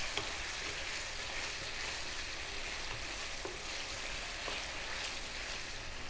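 Tomatoes and tamarind frying in a pan, a steady dense sizzle with faint crackles and occasional stirring taps, close and even throughout, no voices.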